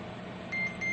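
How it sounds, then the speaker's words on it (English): New target alarm from a JRC marine radar: two short electronic beeps, the first longer, sounding over a steady hum of equipment and ventilation. "it will give automatic alarm as you can see"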